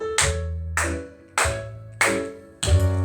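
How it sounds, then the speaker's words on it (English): Five crisp hand claps at an even, counted tempo, ringing slightly in a room during the introduction of a pre-primary tap dance class, with no talking over them. "We clap 1, 2, 3, 4."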